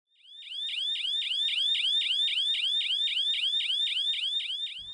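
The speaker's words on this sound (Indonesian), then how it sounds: "Bunyi ini merupakan tanda peringatan bahaya bencana longsor dari sebuah alat pendeteksi longsor hasil inovasi anak bangsa" A landslide detection warning device built by vocational school students sounds its alarm, a loud rapid string of identical chirping electronic tones repeating steadily without pause, with no voices.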